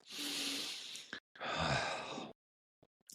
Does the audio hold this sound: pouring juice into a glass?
no